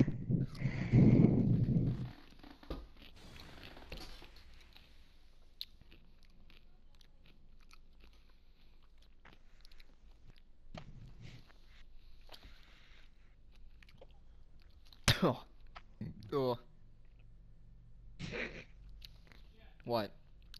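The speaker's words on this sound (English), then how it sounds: "Just by the sound of chewing in the mic." Someone chews a crunchy pickle close to the microphone, with a loud bite and crunching at the start and scattered wet chewing crackles later, while a voice speaks in between.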